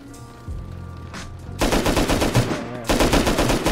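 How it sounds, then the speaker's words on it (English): Rapid automatic gunfire from the survival video game Rust during a raid, arriving in loud, dense bursts after a quieter start, with the bursts briefly separated by a pause. "I don't know if you're shooting at him."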